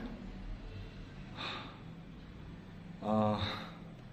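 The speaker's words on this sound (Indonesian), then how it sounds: "Nafas saya sedikit berat di sini" Two heavy, audible breaths, a short one and then a longer, rougher one, taken close to the microphone inside an old Dutch colonial house, over a quiet low background.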